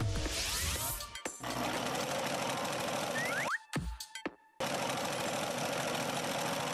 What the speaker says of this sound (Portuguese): ele usaria uma máquina de costura.